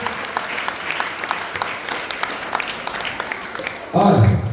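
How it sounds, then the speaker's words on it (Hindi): Audience at a children's program claps for a young performer, with dense applause under an announcer's voice and a sudden loud burst near the end. "एक बार तालियां"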